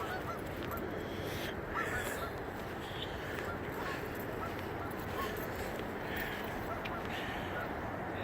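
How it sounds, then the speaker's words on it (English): A flock of geese honks outdoors beside floodwater in Charleston, a dense, continuous chorus of overlapping calls at moderate distance over a steady wash of water and ambient noise. "There's a bunch of geese down here."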